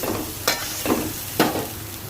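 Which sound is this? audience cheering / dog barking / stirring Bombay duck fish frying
stirring Bombay duck fish frying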